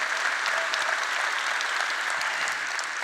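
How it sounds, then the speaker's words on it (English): An audience at the SXSW 2024 technology showcase applauds award winners with steady, dense clapping that fills the room, loud and unbroken throughout. "one more round of applause for the winners"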